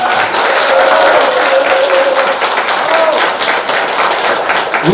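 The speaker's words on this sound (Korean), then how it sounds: "여러분의 큰 박수 함성으로" Loud, sustained applause with cheering fills the hall at the opening ceremony of a Dongui Bogam special exhibition at the Wanpanbon culture center, steady dense clapping punctuated by shouts and whoops throughout.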